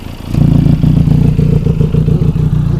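A 2018 Benelli TRK 502 motorcycle engine idles close by with a loud, steady low thrum and mechanical clatter after a brief start.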